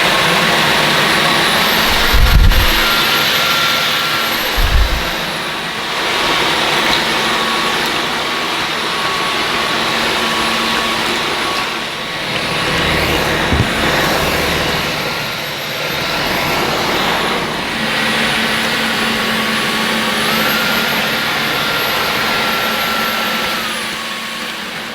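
A Dyson V15 Detect Absolute cordless vacuum cleaner runs with a steady, loud motor whine and airflow roar for the whole stretch, briefly dipping in pitch and surging as it moves across a household floor.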